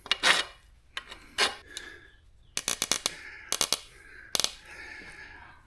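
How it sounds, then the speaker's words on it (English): A metal file touching up the threads of a mounting screw, heard as short separate bursts of rasping strokes, some in quick clusters of three or four, close and fairly quiet with gaps of silence between. "I'll need to touch the threads up for the mounting screw with a file"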